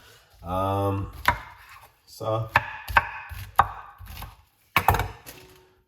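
A knife chops through a pineapple on a cutting board, giving a few sharp, separate thuds between stretches of close-up talk.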